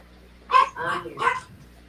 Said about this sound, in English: I hear puppies.